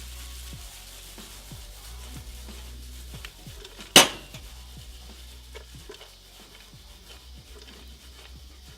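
Potatoes for hash browns being stirred in a pan, with soft scraping and light clinks over a faint sizzle and one sharp metallic knock partway through.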